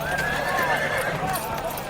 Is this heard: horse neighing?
yes